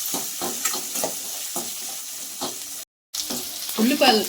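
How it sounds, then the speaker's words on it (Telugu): A large onion frying in a pan until golden for a ridge gourd milk curry, a steady close sizzle broken by rhythmic scrapes of stirring, with a brief dropout and a louder spattering burst near the end. "ఇదైతే బాగా దోరగా వేగనేయండి।"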